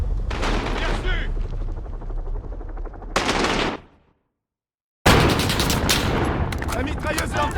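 Machine-gun fire from Call of Duty: Modern Warfare (2019) comes in dense, loud sustained bursts, breaks off into about a second of silence, then resumes just as heavily. Game voice chatter sounds underneath the gunfire.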